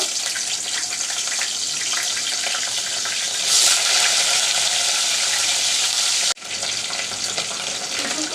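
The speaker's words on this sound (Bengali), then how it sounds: "প্রথমে আমি সুটকিগুলো একটু তেলের মধ্যে বেজে নিব" Dried churi fish (shutki) frying in oil in a pot, village-style cooking, gives a loud, steady, crackling sizzle with a brief dip near the end and no talking.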